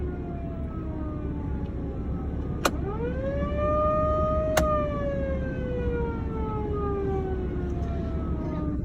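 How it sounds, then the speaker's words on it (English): A mechanical siren calling cattle on winter pasture wails steadily, rising and falling in pitch over a low rumbling engine drone, loud and sustained throughout. "Use a mechanical siren to get them to come."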